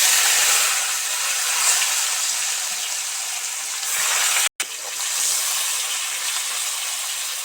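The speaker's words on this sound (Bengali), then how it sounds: "এবার পেঁয়াজ আর টমেটো এর মধ্যে দিয়ে দিচ্ছি" Onion and tomato frying in hot oil, a close, steady, loud sizzling hiss that runs throughout with one brief cut in the middle.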